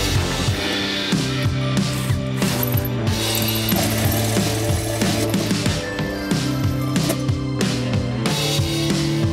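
A hole saw cuts through a boat hull during a washdown system install, a steady loud grinding whir with repeated rhythmic ratcheting catches as the teeth bite, close and continuous throughout with no talking.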